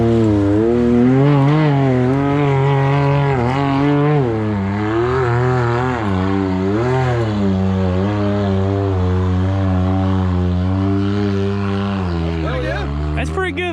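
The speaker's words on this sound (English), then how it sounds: "This is a Can-Am Maverick X3 17 model XDS. The exhaust, it sounds good." A 2017 Can-Am Maverick X3 XDS side-by-side drones with a loud, steady exhaust note while driving off-road on a mountain trail, its pitch swelling and easing with throttle, close and continuous under people talking.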